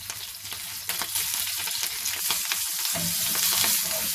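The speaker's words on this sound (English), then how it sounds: "Fry the chilies well" Green chilies and curry leaves fry in hot oil for a pohe breakfast, giving a steady, close crackling sizzle with scattered sharp pops and occasional stirring scrapes throughout, with no talking.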